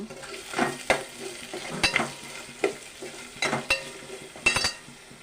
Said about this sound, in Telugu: ఇదిగోండి ఉల్లిపాయలు బాగా మగ్గాలి.